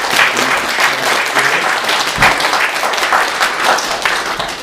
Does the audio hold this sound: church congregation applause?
yes